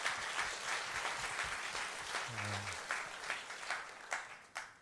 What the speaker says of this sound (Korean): 우리 살아계신 하나님께 감사와 영광의 박수 올려드리겠습니다